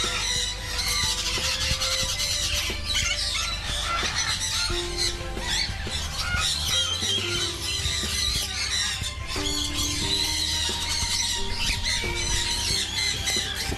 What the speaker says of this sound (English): these over here are the bluehead pionas. They come from Central and South America.